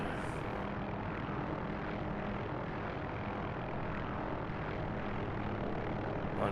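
Helicopter rotor and engine in the DCS flight simulator, a steady droning whir with a low rhythmic chop that holds at a constant level throughout, with no voices.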